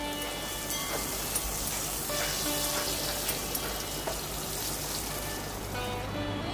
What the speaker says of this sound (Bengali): এবার ওই তেলের মধ্যে আলু পটলগুলো খুব সুন্দর করে ভেজে নেব।